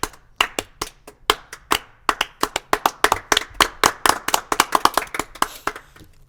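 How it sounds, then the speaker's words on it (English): A single person giving a slow clap, distinct hand claps in an even rhythm that gradually speeds up, close and fairly loud, with no talking over it. "Slow clap."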